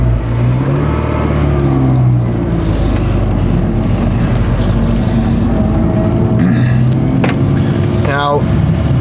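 A supercharged 8th-generation Honda Civic Si running on ethanol accelerates from inside the cabin, a loud steady engine drone with rising tones near the end, while a voice talks over it.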